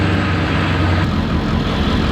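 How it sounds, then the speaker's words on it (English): A car engine running loud and close on a hot tune while the driver shifts slowly through the gears, a dense continuous roar with little variation and no talking. "Try and shift through all the gears slowly."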